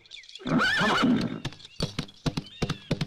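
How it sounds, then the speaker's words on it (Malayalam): A horse gives a loud, close whinny, then its hooves clip-clop in a quick, uneven run of sharp knocks as it moves off. "ഓ, ആ കുതിര എന്ത് മഹാപാപമാണോ ചെയ്തത്!"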